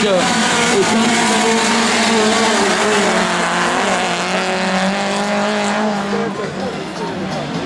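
An autocross race car drives hard around a dirt track, its engine roaring loud and close with shifting pitch and some tire noise, while a French announcer commentates over it.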